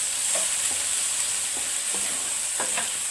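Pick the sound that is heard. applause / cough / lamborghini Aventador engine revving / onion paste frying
onion paste frying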